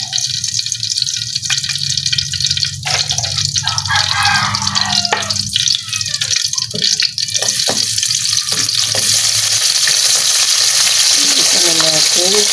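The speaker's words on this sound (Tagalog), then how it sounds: "painitin natin ang ating langis. Ito na po yung ating bawang," Garlic, onion and tomato frying in hot oil, a loud, steady sizzle with bursts of stirring and scraping, growing brighter and hissier in the second half.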